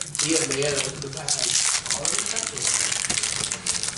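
A Commander Legends trading card pack's foil wrapper is crinkled and torn open by hand, close and continuous, with people talking over it.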